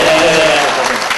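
Audience applause for a guest tenor judge at a singing competition, a short dense burst of clapping that carries steadily to the end.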